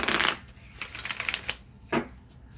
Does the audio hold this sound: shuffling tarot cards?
yes